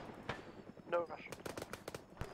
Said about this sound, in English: Right now we're under some heavy fire over.